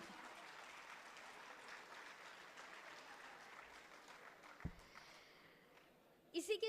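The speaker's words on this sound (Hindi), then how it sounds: "आप सभी की भरपूर तालियों में मैं गुजारिश करती हूँ डॉक्टर बू अब्दुल्ला साहब से कि वो स्टेज पर तशरीफ़ लाएं" An audience at a mushaira gathering applauds faintly as a speaker is welcomed to the stage, a soft distant patter of clapping that fades before a thud and a brief louder noise at the end.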